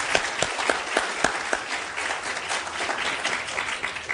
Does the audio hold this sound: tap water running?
no